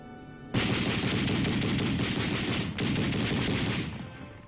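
Sustained burst of 30-caliber machine gun fire from an armored combat unit, a loud rapid hammering that starts abruptly, runs without pause for about three seconds, breaks briefly, then continues before tapering off.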